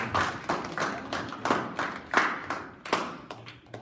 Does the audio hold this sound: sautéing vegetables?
no